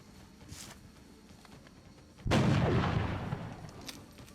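A single heavy gunshot in XCOM: Enemy Within rings out loud and long after faint background game noise, its boom decaying slowly over a couple of seconds.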